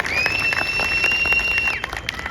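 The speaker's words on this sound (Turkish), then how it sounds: "Bir alkış alıyoruz Angel'a." A crowd at a technology festival applauds a dog named Angel during a demonstration; a short burst of clapping mixed with crowd noise and a high, steady whistle-like tone running through most of it.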